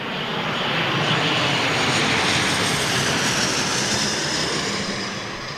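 An ATR turboprop airliner's engines roar at London Heathrow Airport, a loud broad sustained drone that swells and holds steady, then eases slightly at the end, with no talk over it.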